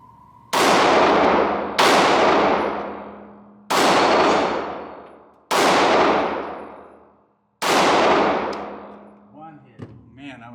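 A Smith and Wesson M&P Shield EZ pistol fires five loud, close shots at uneven intervals of a second or two. Each crack rings out and decays before the next, and faint rustling follows the last shot.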